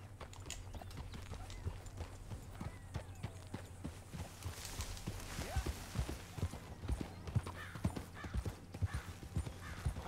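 Horse hooves pound rapidly in Red Dead Redemption 2, a steady galloping clip-clop that carries on throughout, with brief voices talking over it.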